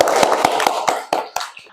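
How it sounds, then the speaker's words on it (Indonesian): Hands clap in a classroom, a short run of about eight sharp, close claps at a fairly even beat that thins and trails off near the end. "Mari kita tepuk tangan untuk kehebatan dan kesemangatan kita semua."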